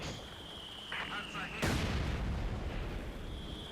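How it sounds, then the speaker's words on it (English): Mortars fire in a Company of Heroes 2 battle, a distant launch followed by a sudden heavy boom and a lingering rumble, with faint tones in the background. "Mortars firing."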